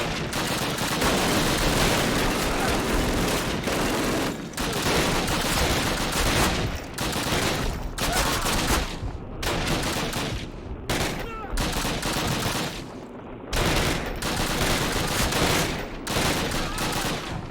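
Sustained heavy gunfire fills a Call of Duty 1 battle, with dense overlapping rifle and machine-gun bursts broken by brief pauses, loud and close, and shouted voices mixed in.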